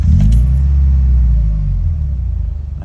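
A car engine fires up with a loud, close, heavy low rumble and a brief jangle at the start, then settles into a pulsing idle.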